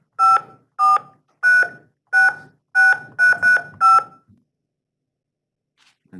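Eight telephone keypad dialing tones punch in a long-distance number, crisp evenly spaced beeps with the last few coming faster, then silence.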